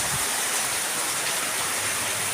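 Heavy monsoon rain pouring outside a gallery balcony, a dense, constant hiss of falling water with no pauses.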